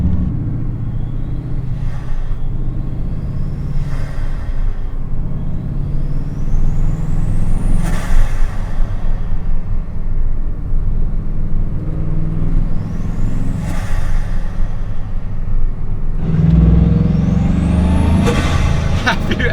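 A Bugatti Chiron Sport's quad-turbo W16 engine rumbles loudly and close, with repeated rising turbo whistles and sharp wastegate chuffs as the car accelerates, heavy low drone throughout.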